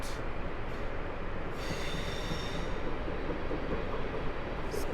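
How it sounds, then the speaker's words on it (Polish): ED160 electric multiple unit pulling out of Kraków Główny station, a steady loud rumble of wheels and motors with high squealing tones from the rails, continuous and close with no talking. "a tu w międzyczasie ruszył ED160"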